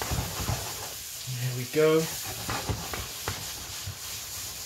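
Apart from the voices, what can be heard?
garlic sizzling in the pan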